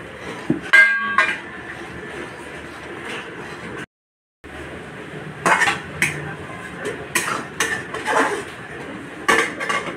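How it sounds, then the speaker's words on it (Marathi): Semolina (rava) goes into boiling water for upma and is stirred in a pot, with a spoon clinking and scraping against the metal in irregular bursts close by, a brief silent gap in the middle and no talk. "आता हळूहळू करून मी ह्याच्यात रवा टाकते"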